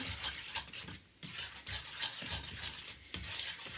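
Flour, sugar and salt being stirred together by hand in a bowl for pizza dough, a soft scratchy rubbing that comes in short repeated strokes with brief pauses, quiet and close with no talking.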